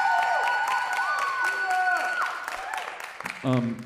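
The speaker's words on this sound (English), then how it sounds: "give him a round of applause because he's our graduate assistant" A university jazz concert audience applauds a graduate assistant, clapping steadily and fairly loud under sustained sung or instrumental tones, ending in a short louder burst.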